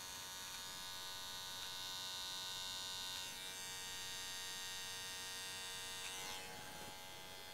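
Electric hair clippers buzzing steadily while cutting an undercut hairstyle, a continuous even whine with small shifts in pitch as the blade moves through the hair, fairly faint and with no talk.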